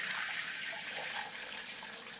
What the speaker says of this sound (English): I'm going to strain out the plant material